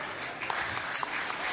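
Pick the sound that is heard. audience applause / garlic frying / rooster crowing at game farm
audience applause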